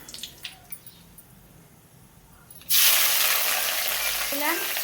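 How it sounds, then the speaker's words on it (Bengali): Onions frying in oil with bay leaf and garam masala for a bottle gourd and meat curry: quiet clinks and stirring, then a sudden loud, steady hiss of sizzling that fills the rest, with no talk. "পেঁয়াজগুলো লাল লাল করে ভাজিয়ে নিব"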